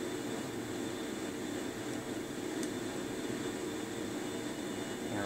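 An airliner's jet engines drone steadily while taxiing in Flight Simulator 2004, a constant broadband roar with a faint high whine, unchanging and fairly quiet throughout, no talking.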